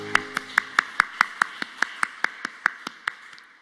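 A church congregation at a Wednesday worship service claps together in a steady, even rhythm of about fifteen sharp claps, loud and close, with no voices over it.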